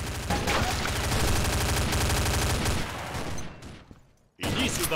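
Rapid automatic gunfire in the video game Combat Arms, a dense, loud burst of shots lasting nearly three seconds, then fading into scattered sounds, a brief silence and another loud burst at the end.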